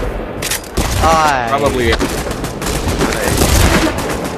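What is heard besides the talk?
grenade explosion in Pavlov VR video game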